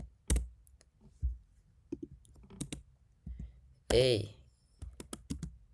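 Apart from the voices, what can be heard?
typing on a computer keyboard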